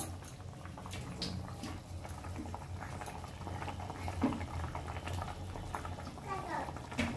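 Water with potatoes boils in a pan, giving a continuous low bubbling and rolling simmer with small pops and clinks, fairly faint and close, with no clear talk.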